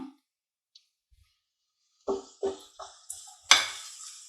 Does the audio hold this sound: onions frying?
yes